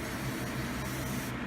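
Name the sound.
spray bottle spraying hair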